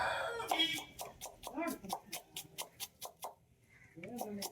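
Chickens cluck in a quick, regular series of sharp calls nearby, with a voice speaking briefly at the start and end.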